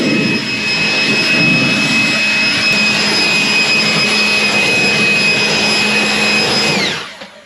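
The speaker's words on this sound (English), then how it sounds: "We're going to leaf blow it off real quick" A leaf blower roars loudly and steadily at close range as it blows water off a freshly washed car wheel, holding a whining tone for several seconds before it quickly cuts off.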